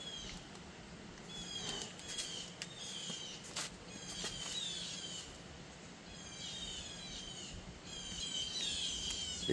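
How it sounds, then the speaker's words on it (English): Many birds calling and chirping outdoors, loud and busy throughout, with repeated high chirps and trills over a steady low background hum. "You can hear the birds loud."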